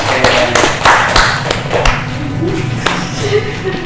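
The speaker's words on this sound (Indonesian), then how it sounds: "Oke, kasih tepuk tangan semuanya ya" A class of schoolchildren claps in a classroom, a loose burst of uneven hand claps and thumps that tapers off, with faint voices underneath.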